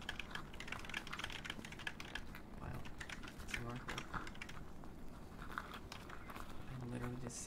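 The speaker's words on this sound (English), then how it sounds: "I'm literally just smacking all the keys on the keyboard." Hands smacking keys on a computer keyboard, a rapid irregular clatter of close key taps with a voice speaking over the typing.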